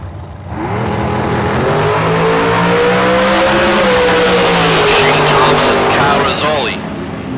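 A dragster and a Camaro launch down a drag strip, engines roaring loudly with rising and falling revs as they pull away, while an announcer talks over the noise.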